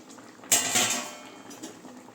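A cooking pot lid lifted off a pot of dal sambar with tomatoes simmering inside, giving one sharp metallic clink and a brief rush of steam and bubbling that fades to a soft simmer.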